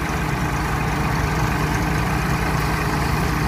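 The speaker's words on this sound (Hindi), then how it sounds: "और ये 72 ट्रैक्टर है, आप देख सकते हैं मशीन के ऊपर चल रहा है, कितना फ्री चल रहा है ट्रैक्टर।" A Massey Ferguson 7250 tractor with a 47 HP engine runs a thresher during groundnut work at about 1000 RPM, a loud, close, unbroken diesel drone with a low rumbling throb and no pauses.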